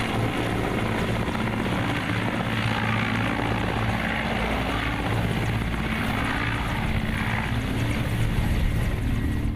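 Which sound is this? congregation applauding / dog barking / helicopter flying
helicopter flying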